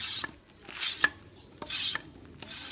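A blade scrapes the outer skin off a wooden strip by hand in a rural village, producing four rasping strokes in a steady rhythm, close and crisp with no talking.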